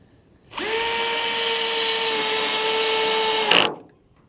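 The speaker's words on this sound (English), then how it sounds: "if I start screwing it in the middle, I don't want it to twist on me" A power drill drives a screw into metal, its motor whining at a steady, even pitch for about three seconds before a brief loud catch as it stops, alone and close with no talking.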